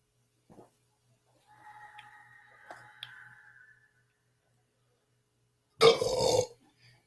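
A man lets out one big, loud belch near the end, a deep rasping burst after a long quiet stretch with a few faint small noises.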